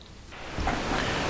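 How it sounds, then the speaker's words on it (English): An analog synth module produces constant noise: broadband hiss that fades in quickly over the first fraction of a second, then holds steady and even to the end. "So here we have analog producing constant noise"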